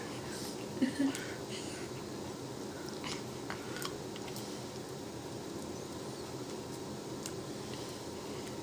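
A one-day-old baby sucks and chews on a finger, giving soft, close, wet smacking and mouthing noises with a couple of slightly louder bursts early on over a steady low room hiss.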